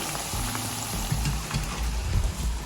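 Paneer pieces frying in hot oil for chilli paneer, a loud, steady close sizzle with crackling bursts as the pieces shift in the pan, no voices.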